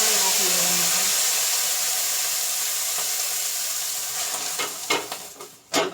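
Pudla batter fries in oil on a hot griddle with a loud, steady sizzle, thinning slightly toward the end as a few sharp scraping clicks break through.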